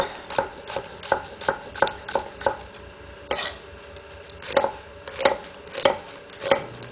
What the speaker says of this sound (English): the key to cutting onions when you're going to saute them up is to cut along the veins of the onion